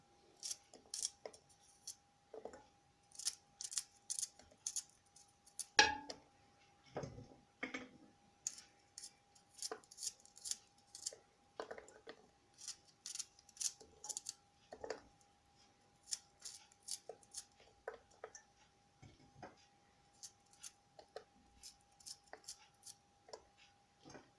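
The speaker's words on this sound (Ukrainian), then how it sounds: "І нарізаю решту часнику." Garlic cloves sliced on a board while pickling rings, a long run of quick, light, irregular cuts and taps close by, with a faint steady hum underneath and no talking.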